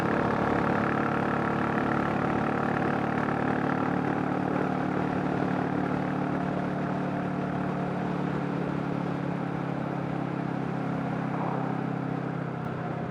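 A Royal Enfield J series motorcycle with a big bore 410 upgrade climbs a hill at part throttle in fifth gear, its engine giving a continuous, steady drone heard close up alongside wind rush for the whole stretch.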